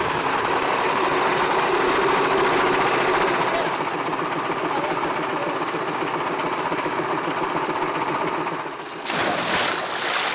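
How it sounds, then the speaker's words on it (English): An air compressor more than 50 years old, feeding air through a hose to a diver off Peru's desert coast, runs with a loud continuous rhythmic chugging that shifts near the end. "He'll breathe air through a hose pipe that's connected to a compressor that's over 50 years old."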